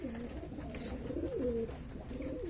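Tumbler pigeons kept by a Turkish fancier coo close by, a steady run of soft, rolling, wavering coos with no voices over them.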